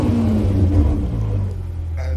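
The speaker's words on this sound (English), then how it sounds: "If you wanted to hear what the car sounds like, you could click there" A car engine plays back inside a virtual reality car tour as a deep, continuous rumble. It is loud and steady, with a slight rise and fall and no voices over it.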